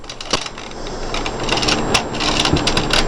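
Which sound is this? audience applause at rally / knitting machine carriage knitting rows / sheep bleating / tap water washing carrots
knitting machine carriage knitting rows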